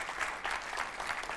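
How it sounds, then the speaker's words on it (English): Brief burst of audience applause at a Java EE conference talk, with moderate, even clapping from a seated crowd filling the short moment without a pause. "everybody give him a round of applause"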